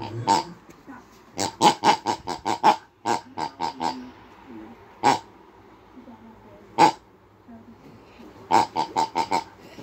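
Pig grunting in short snorty bursts, some in quick clusters of several and others alone, close by and fairly loud, with a person talking in between.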